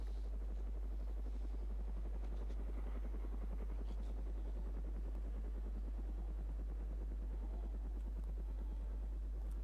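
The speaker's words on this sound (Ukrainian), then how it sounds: "О, вертоліт летить." A helicopter flies in the video game DayZ, its rotor producing a steady rapid low thudding drone that stays fairly faint and constant throughout, with no speech.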